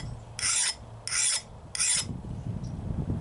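A small bastard file rasps across the hardened steel edge of a blade in three short, bright strokes at an even rhythm, close and fairly quiet, followed by faint handling noise.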